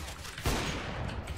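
Gunfire in Counter-Strike: Global Offensive: a sudden loud burst of shots partway through, trailing into rattling fire and game noise.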